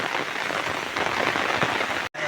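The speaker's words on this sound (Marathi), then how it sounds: "पाऊस भरपूर आहे" Heavy monsoon rain pours steadily onto a surface during paddy-planting season, a dense even hiss that holds at full strength for about two seconds before cutting out abruptly near the end.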